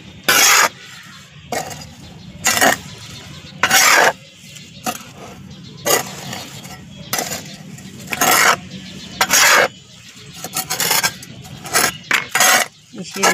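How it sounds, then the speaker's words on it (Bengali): Potting soil being mixed by hand with fertilizer and neem leaves for a bougainvillea, repeated coarse rasping scrapes in short bursts separated by quieter pauses, close up. "তো মাটিটাকে খুব ভালো করে মিশিয়ে নেবেন আগে"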